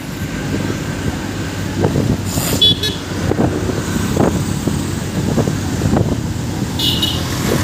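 Steady road rumble and wind from inside a moving jeepney in Masbate, with a few short horn toots cutting through the constant engine drone; no one speaks.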